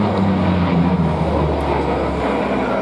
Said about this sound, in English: Landing the Corsair, look at these big, huge flaps.